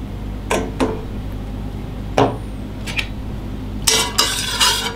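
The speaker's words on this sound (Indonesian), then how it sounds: "Kita aduk-aduk." A spoon scrapes and clinks against a bowl while a mixture is stirred, several scattered metallic knocks and scrapes at close range, with a quick cluster of clatters near the end and no talking.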